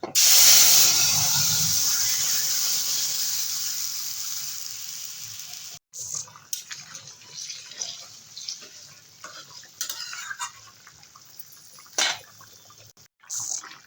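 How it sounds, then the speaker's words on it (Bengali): A green banana and drumstick curry is poured into hot oil with bay leaf and whole cumin, setting off a loud burst of sizzling that fades over several seconds, then gives way to scattered clinks and scraping from stirring. "এবারে তরকারিটা ঢেলে দেবো"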